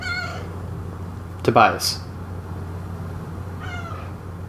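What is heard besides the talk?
cat meowing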